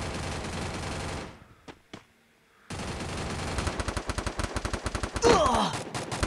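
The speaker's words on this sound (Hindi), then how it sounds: "अच्छा गोलियां चलनी शुरू हो गई एक्चुअली।" Rapid gunfire in the battle royale game Free Fire, with dense automatic bursts and single shots after a brief silent gap, loud and continuous over game sounds.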